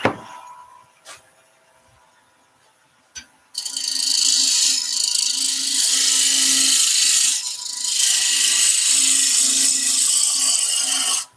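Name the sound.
roughing gouge cutting wood on a lathe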